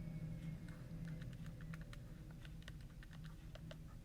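Numbers being typed into a calculator or keyboard: a quick run of light, faint key taps in irregular rhythm over a steady low background hum, with no talk.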